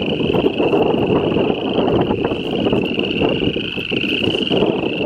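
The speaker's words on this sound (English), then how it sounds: "Very windy and it's raining a little bit." Strong wind buffets the microphone on a dark morning hike at Iroquois with light rain falling, a steady loud rushing roar with a high thin whistling tone running throughout.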